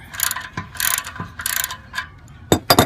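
Exhaust clamp being loosened on a Harley Davidson FLD, several loud bursts of ratchet-wrench clicking in quick strokes with short pauses, very close.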